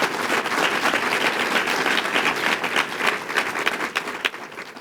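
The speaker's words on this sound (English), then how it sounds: "Round of applause for the group that put that together." Breakfast guests at a Columbus State donor event give a round of applause for the group that organized it: steady, full clapping from a large room throughout, without speech.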